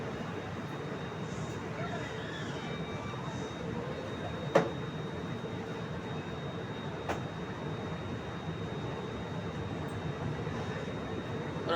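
Kolkata–Agra Cantt Express standing at a station platform at Agra with a Sealdah-based locomotive attached, giving a steady, even rumble and hum throughout, broken by two brief metallic clanks.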